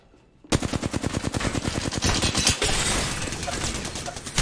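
Rapid automatic gunfire in a video game, a loud close burst of evenly spaced shots that blurs into a dense roar of overlapping fire after a brief quiet start.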